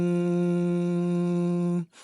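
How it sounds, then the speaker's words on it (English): A voice hums a single steady note in the key of A through a karaoke pitch-correction effect, giving a flat, buzzy, unwavering tone that holds close and loud before cutting off abruptly. "Like if I hum in the key of A, it will sound like this."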